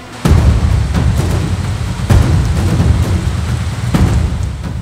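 Heavy monsoon rain pours down in Mumbai, a loud, steady wash with no break, and several sharp heavier bursts stand out through it.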